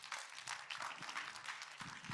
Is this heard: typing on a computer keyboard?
no